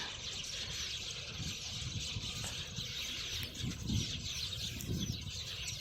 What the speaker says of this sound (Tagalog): ang sanga ng puno na to ay punong-puno ng ibon